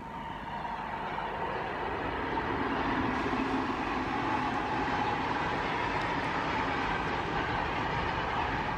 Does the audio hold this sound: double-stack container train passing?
yes